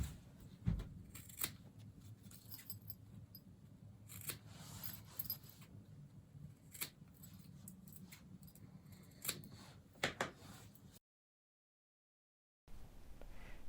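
Scissors trimming vinyl and a zipper while sewing a see-through zipper pouch, a series of quiet, close snips and small scrapes at irregular intervals, then a brief silence near the end.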